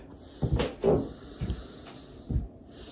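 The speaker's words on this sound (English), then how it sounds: "I'm having issues with the floor. It's really creaky." Wooden floorboards in a jacked-up shed creak and knock under footsteps, four separate muffled groans and thumps spaced through a quiet room.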